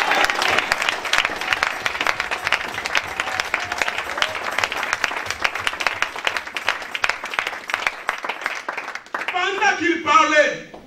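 A church congregation applauds with sustained, dense clapping that fills the room, close and loud, ending with a voice speaking over the fading claps.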